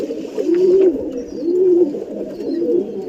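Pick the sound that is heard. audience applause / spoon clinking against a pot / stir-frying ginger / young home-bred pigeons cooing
young home-bred pigeons cooing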